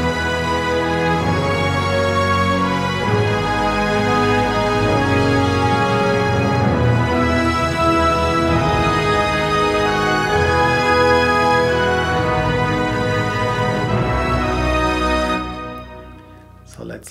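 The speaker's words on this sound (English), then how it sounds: "and together with the timpani on its own, it sounds like this" Timpani roll recorded with a little close microphone, from the Spitfire Symphonic library in an orchestral arrangement, blending into a dense, sustained orchestral swell that holds steadily before fading away in the final seconds.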